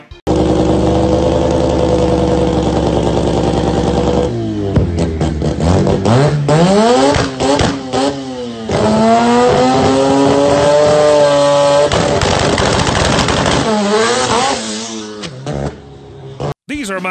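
Drag car engines idle with a steady rumble, then rev in rising and falling sweeps, loud and close, with a few short gaps between blips.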